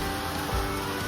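Steady rain falls on a surface at a village home, a constant even hiss with no pauses and no voices over it.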